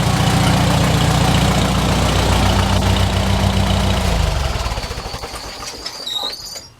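A 1951 McCormick Deering W4 tractor engine idles loud and close with a steady low chug, then is switched off and sputters to a stop, leaving faint rattles.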